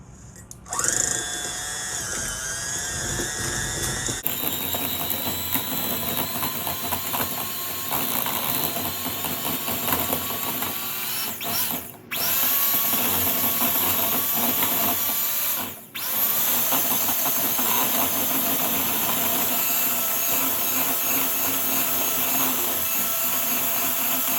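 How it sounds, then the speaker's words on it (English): An electric hand mixer whirs steadily while creaming a softened stick of butter for chocolate chip cookies, a loud continuous motor drone that changes pitch once early on and drops out briefly twice before resuming, with no talking. "Step two is to cream soften butter with an electric mixer, 2 to 3 minutes."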